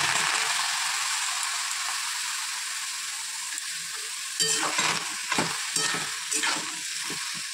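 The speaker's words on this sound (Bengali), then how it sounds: "এবার আমি সবজিগুলো দিয়ে দেবো" Vegetables sizzling in a pan cooked without oil make a continuous hiss, then spoon stirring and scraping add several sharper, louder bursts toward the end.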